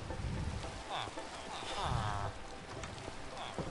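Rain falls in Minecraft as a constant wash of hiss, with brief voices and game sounds mixed in over it.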